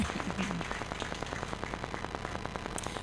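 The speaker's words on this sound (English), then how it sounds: "Please, can you help me clap for Father, please?" An audience in a Catholic church hall claps for a priest, a steady patter of many hands at moderate distance, continuing evenly for a few seconds without speech.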